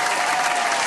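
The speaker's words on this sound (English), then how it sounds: "Let's clap it up for the setup one time." Short burst of dense clapping and crowd applause during a livestream reaction, loud, steady and close.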